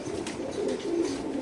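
Several BRPFC racer pigeons in caged pairs coo in a steady, overlapping murmur of low throaty calls, close and continuous for the short stretch.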